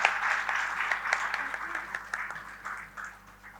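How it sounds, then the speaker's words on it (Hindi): An audience applauds a team's dance performance at an award ceremony, steady clapping with a few louder bursts that gradually fades toward the end. "जोरदार तालियों से इस टीम की अद्भुत प्रस्तुति का स्वागत करें"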